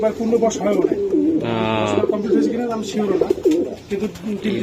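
Pigeons at a pigeon farm coo repeatedly in soft, rolling calls close by, with a person's voice briefly heard among them.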